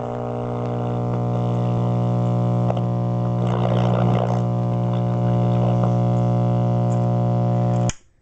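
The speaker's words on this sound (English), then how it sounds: "You can hear the AC ripple not being filtered out by the capacitors" An Admiral 4 tube radio with bad capacitors emits a loud, steady buzzing hum thick with harmonics and distortion, a brief crackle mid-way, then cuts off abruptly near the end.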